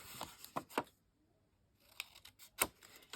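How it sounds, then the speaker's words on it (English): Scissors snip through a journal cover at an angle: three quick crisp cuts, a short pause, then several more close, sharp snips. "we're going to cut off the square where they intersected, and we're going to cut it at an angle like so."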